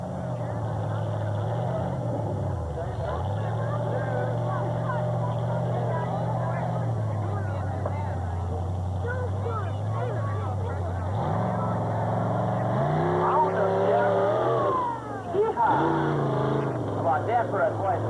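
A Chevrolet monster truck's engine roars and revs at an outdoor monster truck show, holding steady before climbing in pitch, with an announcer talking over the loud engine throughout.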